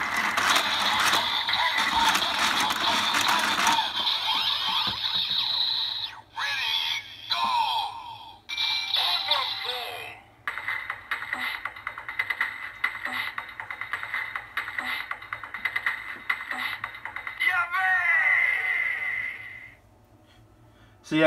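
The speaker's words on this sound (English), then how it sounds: "Now, you press the blue button again. Hazard on. And then turn the crank." A toy DX Hazard Trigger from Kamen Rider Build is cranked, giving long stretches of loud electronic sound effects with clicks and grinding mechanical noises, plus brief pauses in between.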